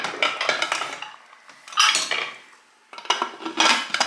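Metal pressure cooker lid being handled and closed over mutton curry in a Kerala kitchen, with clattering, scraping clinks in uneven bursts separated by short quiet gaps, close and fairly loud.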